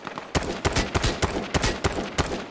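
Gunshots in the game Z1 Battle Royale: a rapid string of about eight sharp, loud reports in an irregular burst pattern, no voices.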